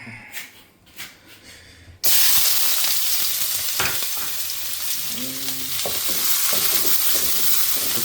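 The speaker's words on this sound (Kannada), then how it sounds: "ಸೊ ಈ ತುಪ್ಪಕ್ಕೆ ಈರುಳ್ಳಿ ಹಾಕ್ಕೊತೀನಿ." Chopped onions drop into hot ghee after two quiet seconds and set off an abrupt, loud burst of sizzling that holds steady, with a few scraping stirs of a ladle along the way.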